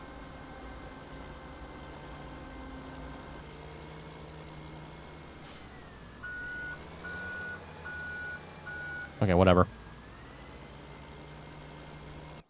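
Reversing alarm on a truck in Farming Simulator 17, steady evenly spaced beeps over a low engine idle, followed by a short loud burst of noise; a voice briefly speaks.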